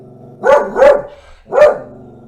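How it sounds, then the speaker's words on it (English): A dog barks three times in quick succession, near and loud, reacting to a delivery person arriving; no talking. "the dog has to bark when she hears the delivery person"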